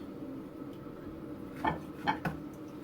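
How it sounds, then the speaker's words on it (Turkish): A knife cuts roasted peppers on a board in a kitchen, giving three short, soft strikes close together near the end over a quiet room hum. "Arkadaşlar közlenmiş biberimizi de doğruyoruz."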